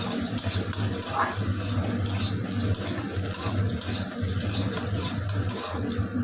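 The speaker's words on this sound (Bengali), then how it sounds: "ডালটা এইভাবে ভাজতে হবে ভালো করে, ডালটা লাল করে ভেজে নিতে হবে।" Lentils (dal) fry in oil in a pan while being stirred, a steady sizzle with scraping stir strokes and a low hum underneath, no voices.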